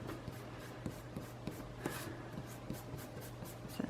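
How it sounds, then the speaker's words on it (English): A pencil guide line rubbed out with an eraser on drawing paper, giving soft, steady scrubbing strokes with small repeated taps, close and quiet with no talking. "I'm going to erase this"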